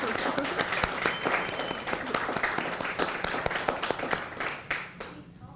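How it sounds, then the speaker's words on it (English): An audience at a discussion event on contraception and sexual health gives a round of applause, a dense, steady patter of many hands clapping close by that tapers off at the end. "can we give these two women a round of applause"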